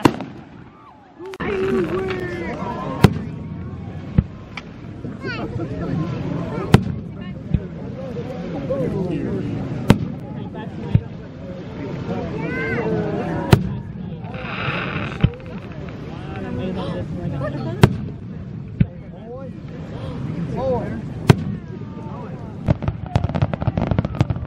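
Sharp firework bangs pop at irregular intervals over a steady rumble and wind buffeting, with people talking throughout near huskies in hammocks.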